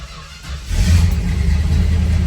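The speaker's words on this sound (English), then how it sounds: "you do have to crank it until fuel reaches the carburetor." A 1968 Dodge Charger that has sat for months cranks briefly and catches, its engine settling into a loud, steady rumbling idle up close.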